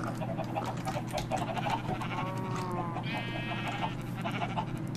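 Sheep bleating on a farm in a block-building video game, a few wavering bleats rising over a steady background hum, fairly faint and with no talking.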